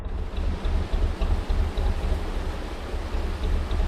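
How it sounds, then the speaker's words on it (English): Water pours over the back gates of a lock on the Oxford Canal in a steady, close, rushing roar with no speech. "Quite a surprising amount of water flowing over the back of this lock here."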